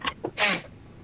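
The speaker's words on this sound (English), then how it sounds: "That was a very quiet sneeze." A single soft, muffled sneeze is preceded by two brief sharp intakes of breath, quiet and close, lasting under a second.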